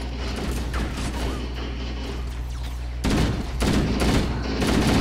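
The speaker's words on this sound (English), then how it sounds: "They're shooting at me now." Enemy gunfire in the Halo video game, dense rapid bursts of shots and impacts running throughout, growing louder and busier after the midpoint, with no talking.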